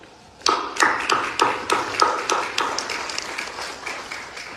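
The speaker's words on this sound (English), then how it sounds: "may we give them a round of applause." Applause at a ceremony for the signing of a permanent cessation of hostilities between Ethiopia and Tigray in South Africa comes as a burst of distinct hand claps at a steady rhythm, starting sharply and fading gradually.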